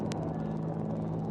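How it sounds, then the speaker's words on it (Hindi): Three Apache helicopters fly in victory formation over India Gate during the Republic Day flypast, their rotors producing a steady, rhythmic thudding drone. "इंडिया गेट के ठीक पास पहुंचते हुए अजय फॉर्मेशन में 3 अपाचे हेलीकॉप्टर विक्ट्री फॉर्मेशन में"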